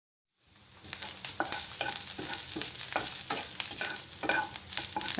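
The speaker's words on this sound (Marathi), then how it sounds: "तर आधी मसाला भाजून घेऊया." Spice masala roasting in oil in a pan, crackling and sizzling continuously with rapid irregular pops and stirring scrapes, close and fairly loud, no talking.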